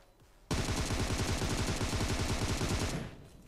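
Rapid sustained automatic fire from an AKM rifle in the mobile game PUBG Mobile, a loud continuous burst of closely spaced shots lasting about two and a half seconds with no talking.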